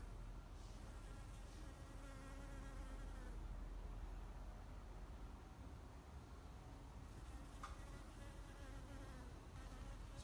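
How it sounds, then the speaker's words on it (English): A bee buzzes while pollinating avocado flowers outdoors, a steady faint insect drone over a continuous background hiss, with no talking. "Check out this bee that's pollinating the flowers behind me."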